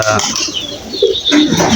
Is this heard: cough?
no